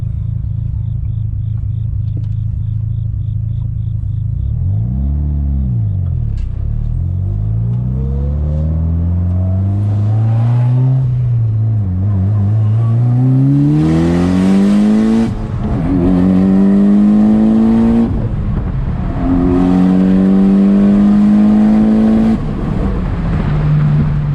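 A Mitsubishi Lancer Evolution IX engine revs and accelerates through repeated rising pulls with gear shifts between them, loud and close from inside the car while driving, with no talking.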